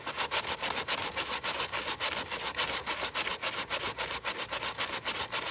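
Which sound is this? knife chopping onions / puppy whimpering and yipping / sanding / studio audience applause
sanding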